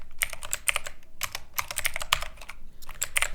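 Close, steady clicking of computer keyboard keys while C++ code is written, with quick irregular bursts of keystrokes and short pauses and no voices.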